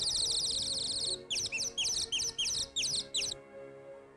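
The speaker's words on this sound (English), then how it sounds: "Oh, listen! A nightingale!" A nightingale sings nearby, a rapid run of bright, high trills followed by about seven short repeated phrases, clear and close over a faint low hum, then quiet.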